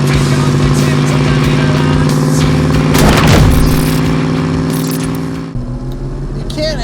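A 1966 Ford Mustang with a 302 V8 and 4-speed runs loud and steady, its engine note swelling into a brief surge of revving around the middle before the sound drops and settles again.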